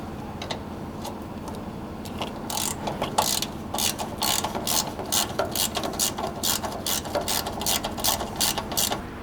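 Rapid ratchet-pawl clicking in bursts as a hand ratchet loosens 12mm bolts holding a pump to a vehicle frame under a GX460, close and steady with no talk.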